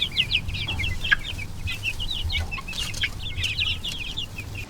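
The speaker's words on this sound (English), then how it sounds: "These chicks are big." Chickens cluck steadily in a chicken tractor on a farm, a busy run of close, overlapping calls with a low hum underneath and no talking.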